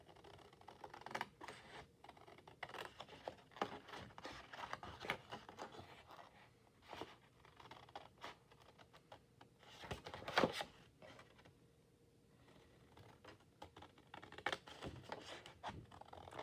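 A 12x12 sheet of cardstock is cut by hand in a quiet room, with faint, crisp intermittent snips and scrapes arriving in irregular bursts.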